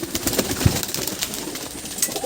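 Andhra pigeons shuffle and coo in a pigeon loft, with low soft coos, wing flutters and rustling nearby over a busy background, no speech.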